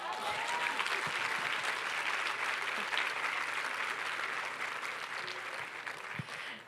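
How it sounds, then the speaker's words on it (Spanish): Audience applause at a church women's event: a sustained, even wash of clapping from a sizable crowd, fairly distant and soft, holding steady throughout with a few louder claps near the end. "¿Por qué no damos un fuerte aplauso?"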